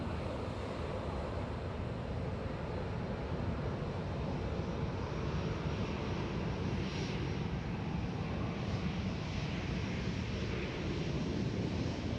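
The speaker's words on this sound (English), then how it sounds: "the aircraft are quite noisy when they're taxiing past it" Jet aircraft taxiing past at Sydney Airport make a loud, continuous broadband roar that holds steady for the whole stretch, with no voices over it.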